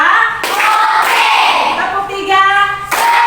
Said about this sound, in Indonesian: mari kita tepuk 1 sampai 5